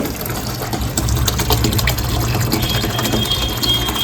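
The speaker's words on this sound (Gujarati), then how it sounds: "નળ આવી ગયા છે. મારે પીવાનું પાણી ભરવાનું કામકાજ ચાલુ છે." Water gushing from a tap into a container, a steady splashing flow with small gurgles, close by and without speech.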